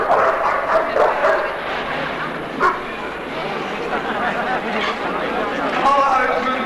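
Dogs yip and bark in a busy indoor show ring amid a murmuring crowd, a few scattered barks rising above steady voices and general hall noise at moderate distance.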